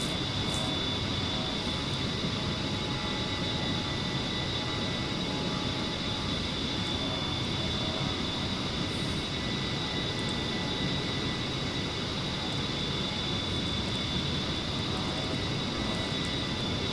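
A military jet flies in a flight simulator, producing a steady, unbroken engine roar with a high whine running through it, constant in loudness throughout and heard alone without talk.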